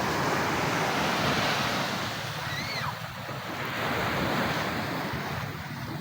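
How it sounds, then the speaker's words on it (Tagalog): Strong surf pounds a beach at La Paz, San Narciso, Zambales, a loud continuous roar of breaking ocean waves mixed with wind noise on the microphone, with no voices. "Lakas ng alon?"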